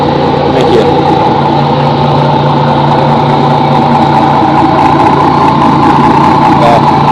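A Bluetooth speaker built to imitate a Caterpillar diesel engine plays a loud, steady idling rumble with a deep low hum and a constant mid-frequency drone, holding unbroken for several seconds.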